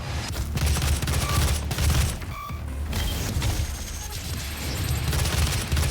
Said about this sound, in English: Assault rifle, of course, is an automatic, well, assault rifle.